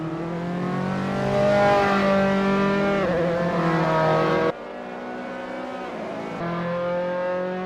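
A Dallara F single-seater race car engine in Assetto Corsa at Fuji Speedway, a loud steady high-pitched whine that rises and dips through gear changes, close and continuous with no talking.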